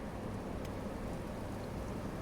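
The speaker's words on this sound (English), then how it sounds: "all because of this acid rain" Acid rain in the video game Kenshi, a steady, dense hiss of rainfall that holds constant throughout at low volume, with no voices.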